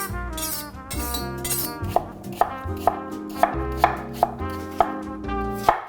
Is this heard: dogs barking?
no